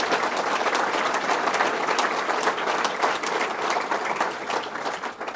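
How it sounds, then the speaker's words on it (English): An audience at a state bass fishing challenge event in Cayuga breaks into steady, dense applause, continuous clapping from a crowd filling the whole stretch without pause. "Let's give them one more round of applause,"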